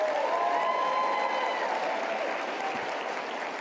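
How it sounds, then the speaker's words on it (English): Audience applause for Turning Point USA at a live speaking event, a dense, steady wash of clapping from a large crowd that holds loud for several seconds and only slightly eases toward the end. "Big applause for Turning Point USA,"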